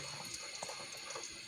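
Water is poured into a pot of boiling kadhi, producing a faint, steady liquid rush that stays low and continuous throughout.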